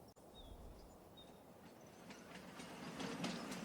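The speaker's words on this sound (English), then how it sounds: "The train has arrived" A train in the Farming Simulator 25 video game rolls in with a soft, steady rumble and faint clicking wheels, growing slightly louder toward the end.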